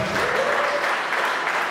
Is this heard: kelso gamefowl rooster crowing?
no